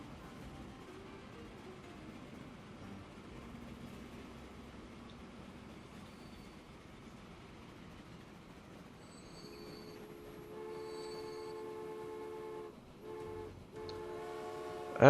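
A passenger train in the Transport Fever game rolls along with a low, even rumble, then rising tonal wheel and brake squeals and a brief horn-like tone near the end, fairly quiet overall with no talking.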